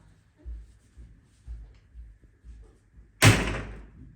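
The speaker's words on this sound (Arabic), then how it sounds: "يلا سديها الباب." A door slams shut in a home with a sharp, loud impact and a brief broadband wash trailing off, following a run of soft regular thumps.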